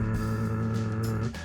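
A voice imitates a car engine as heard from inside the car: a steady, low droning hum held for over a second, then cutting off.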